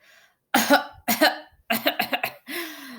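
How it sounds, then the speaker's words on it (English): A run of harsh coughs, close and loud, coming in several bursts with a short rapid cluster, ending with a strained groan. "How long have you had that cough?"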